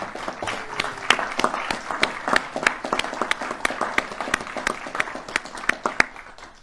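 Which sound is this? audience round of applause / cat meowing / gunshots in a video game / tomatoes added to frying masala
audience round of applause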